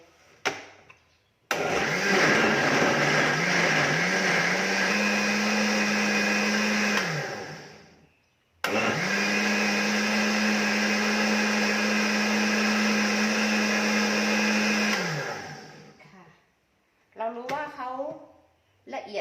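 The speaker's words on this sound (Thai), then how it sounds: "เราก็จะปั่นลงไปเลยนะคะ ปั่นลงเครื่องปั่นเลย" A blender whirs loudly blending kale juice in two long runs of several seconds each, its motor steady and close, with brief pauses and a little rattling between.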